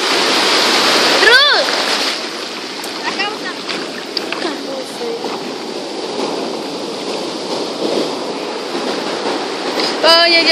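Cold water splashing and rushing in a continuous loud wash close by, with short splashes throughout and a person crying out over it.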